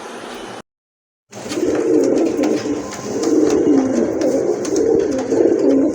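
Several pigeons, a mixed collection of local and foreign breeds, coo continuously in a low rolling murmur after a brief silent gap near the start, with faint bird calls and no talking.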